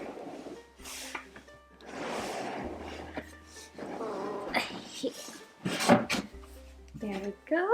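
Wooden drawer of a Method and Madness mulberry wood whiskey box sliding open with soft scrapes and knocks, mixed with handling clatter and someone talking nearby.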